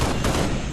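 Rapid gunfire in the video game Halo, a brief, loud, dense burst of shots.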